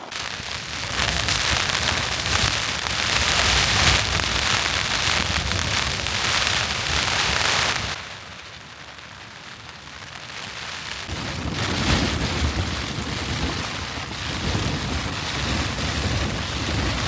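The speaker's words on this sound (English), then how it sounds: "It isn't for rain like this." Heavy rain pours down outdoors in the Lake District fells, a loud, dense hiss that dips briefly midway before surging back with gusty roar; no voices.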